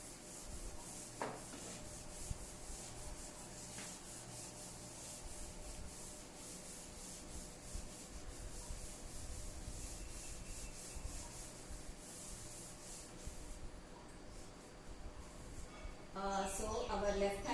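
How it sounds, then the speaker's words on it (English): Writing is rubbed off a lecture board with a steady scrubbing, sanding-like rasp that carries on for many seconds, close and fairly loud, with faint room noise around it. "I will just rub this all."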